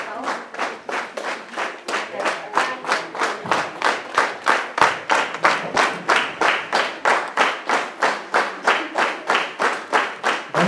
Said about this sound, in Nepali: यहाँहरू सबैले तालीबाट यसको अनुभूति दिलाउनु।